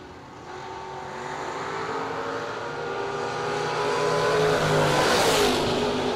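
A Chevrolet S10 drag racing truck roars down the track at a drag racing event, its engine note climbing steadily and growing louder as it passes, with no talking.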